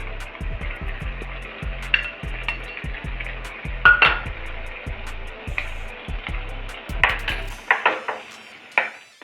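Carrot halwa with sugar and khoa is stirred in a pan. Rhythmic scraping strokes of the spatula run over a soft sizzle and stop near the end, followed by a few scattered clinks.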